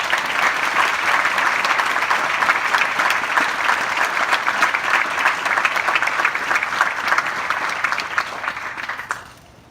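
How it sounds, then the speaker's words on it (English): Sustained, loud applause from a crowd honoring veterans at a Veterans Day gathering at The Marshall House, steady dense clapping that fades out at the very end. "Please join me again. Another round of applause."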